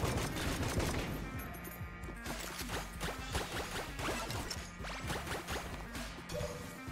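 Dense, rapid gunfire from the strafe gun in the video game Enter the Gungeon, a continuous stream of shots with small explosions layered over game music and effects, loud throughout.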